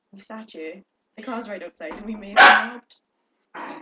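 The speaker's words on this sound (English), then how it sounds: "that's the dog" A dog barks once loudly and sharply at close range, cutting across a man's ongoing conversation indoors, with a few short yips around it.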